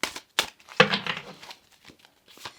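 Crow Tarot cards being shuffled by hand, giving a few quick, close papery riffles and soft crinkling bursts separated by short pauses.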